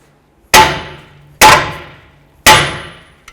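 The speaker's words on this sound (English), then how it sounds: "We're going to bonk right here on the knuckle, being careful for the threads on the tie rod" A hammer strikes the steel steering knuckle of a 2007–2014 Ford Edge three times, each blow a loud close ringing clang that decays, evenly spaced about a second apart.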